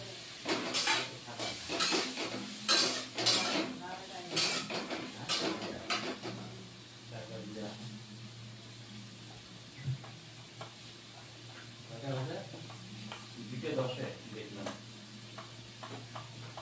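Peas and potatoes fry in a pan for a cabbage dish, with a soft hiss and sizzle and a few stirring knocks. Someone talks loudly over it at first, then the frying continues more quietly with occasional speech.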